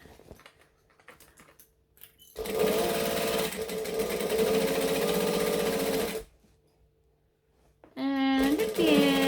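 A sewing machine stitches a bag in two loud, fast runs of rapid needle clatter separated by a short pause, with the second burst a brief backstitch.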